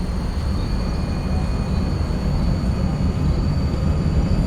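Tram rolling through city streets in City Transport Simulator: Tram, a steady loud rumble of wheels on rails with a low hum and faint high whine throughout, no talking.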